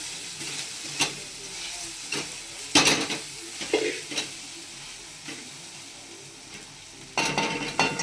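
Browned onions fry in a pan for pav bhaji while being stirred, a steady sizzle broken by repeated scraping strokes and occasional clinks of the spoon against the metal pan, close and fairly loud.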